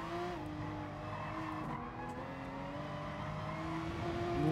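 A race car in GT Sport braking far too late into a corner, tires squealing in wavering tones over a steady engine drone that swells toward the end.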